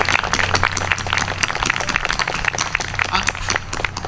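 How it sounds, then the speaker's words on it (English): Applause from an audience at a Walton entertainment evening, saluting local sponsor businesses: dense, steady clapping that fills the whole stretch at a fairly loud, even level, with a low hum underneath. "a big round of applause for all these local businesses that help support us"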